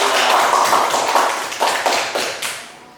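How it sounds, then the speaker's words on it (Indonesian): A classroom audience claps together, a loud close burst of applause that swells several times and then fades out over a few seconds. "Baik Bapak Ibu, kita beri aplaus untuk"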